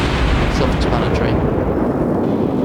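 A warship fires a broadside in World of Warships, heard as a loud continuous roar and rumble of heavy naval guns that fills the whole moment with no gaps.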